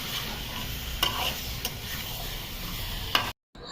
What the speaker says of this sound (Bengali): এখন সমস্ত একসাথে কষে নিতে হবে।